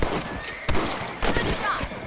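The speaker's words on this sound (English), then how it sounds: "Let's kill those little varmints." Rifle shots ring out at rabbits in the Western video game Red Dead Redemption: several sharp, loud cracks spaced about half a second apart, over a steady background hum of game ambience.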